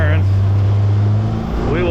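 A 2022 Polaris RZR PRO R side-by-side drives a timed lap over a dirt course with a tabletop jump. Its engine drones as a steady, close, loud roar while someone talks over it.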